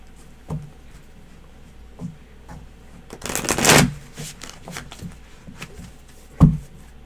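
Tarot cards shuffled by hand, a dense riffling burst in the middle of the clip with a few soft isolated card taps before and after, close and fairly quiet, no talking.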